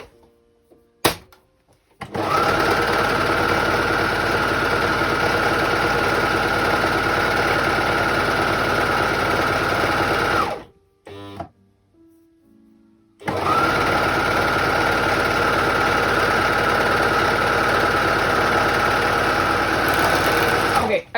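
A sewing machine stitches a dress sleeve in two long steady runs, each lasting several seconds. The motor drone is loud and close, with a short pause and a few clicks between the runs.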